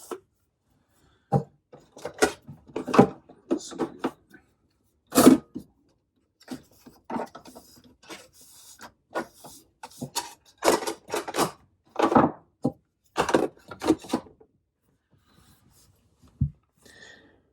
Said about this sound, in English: And I'm just going to grind it on its coarsest setting.